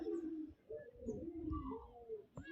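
Soft, low cooing from a nearby pigeon runs through most of the moment, a few rolling coos with faint chirps above.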